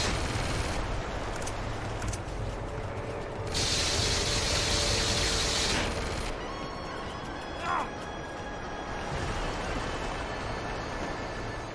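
Video game gunfire: dense, noisy bursts and rattling shots close up, with a loud sustained volley partway through, heard among other game noise and a voice talking.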